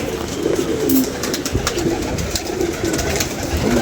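Pigeons bought for a home loft coo in steady, low murmuring phrases, close by and fairly loud, with faint rustling and a few higher bird chirps behind them.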